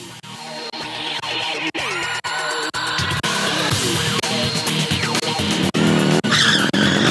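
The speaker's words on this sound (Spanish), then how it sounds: "Todas estas acrobacias de moto como estas" Motorcycle stunts with tires skidding, a loud sustained screech and engine roar with rapidly shifting pitches and brief sharp cuts, heard close over several seconds.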